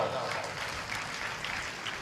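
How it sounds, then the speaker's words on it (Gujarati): Audience clapping at a Gujarati folk music and storytelling program, a steady wash of applause lasting about two seconds beneath a voice. "એચવી સાઉન્ડને જોરદાર તાળીઓના નાદ સાથે વધાવો."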